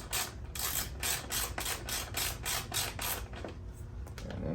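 A ratchet clicks in a rapid, evenly paced series while loosening handlebar bolts on a Harley-Davidson Street Glide, close and crisp, with no talking.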